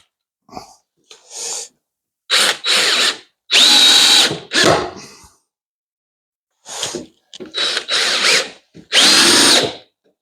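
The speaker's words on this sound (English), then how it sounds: "Stick a couple of screws in there to hold this leg up." Power drill driving a couple of screws into a wooden temporary leg in a workshop, heard as several loud, close whirring bursts of a few seconds each, separated by quiet pauses.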